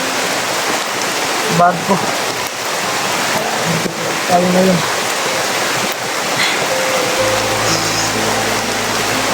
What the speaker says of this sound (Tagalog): Nakakaulan na talaga tol.